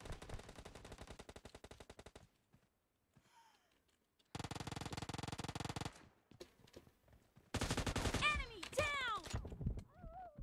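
Automatic gunfire in a shooting video game comes in three loud bursts of rapid shots separated by short gaps, with someone speaking briefly between them.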